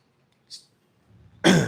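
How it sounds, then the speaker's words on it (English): A man clears his throat once, a short rough burst right at the end after a faint breath and a tiny click, close and otherwise quiet. "sorry for clearing my throat on y'all."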